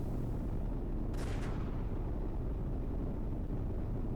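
Cannon firing in the tank video game Steel Fury, where a KV-1E is in play: one or two faint, distant sharp reports heard over a steady low engine rumble.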